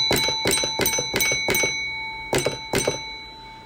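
A railway signal box block bell rings the 6-2 code for a train unusually long time in section: six quick, evenly spaced rings, a short pause, then two more, each ring clear and close with a sustained metallic tone.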